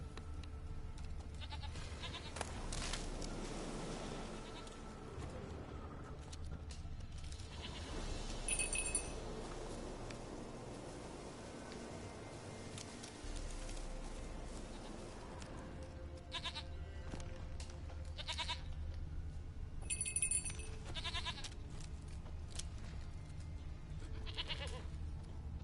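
A goat in the Witcher 3 video game bleats several times amid faint game ambience, with occasional light clinks and a low background hum, fairly quiet and without talking.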